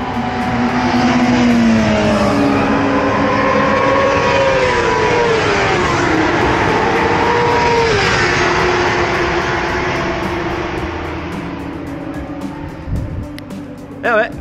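Racing motorcycles lap the Portimao circuit in the rain, their engines a loud, sustained droning whine that shifts pitch as bikes pass, easing toward the end while a voice speaks over it.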